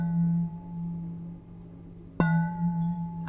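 A vacuum-insulated coffee mug rings with a sustained, pure bong tone that fades slowly, then is struck again for a sharp new hit that rings on close by.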